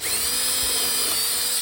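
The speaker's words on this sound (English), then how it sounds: "I'm going to drill into this piece of wood." A power drill bores into the wooden body of a beehive, a loud, continuous high whine held steady from start to finish, close up.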